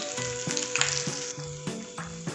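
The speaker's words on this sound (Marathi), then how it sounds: "तूप गरम झालं की यामध्ये थोडे जिरे आणि मोहरी थोडे तीळ हिरव्या मिरचीचे तुकडे हिंग पावडर" Cumin, mustard seeds, sesame, green chilli pieces and asafoetida crackle in hot ghee for a tempering, a loud continuous close-up sizzle with a pulsing rhythm and no talking.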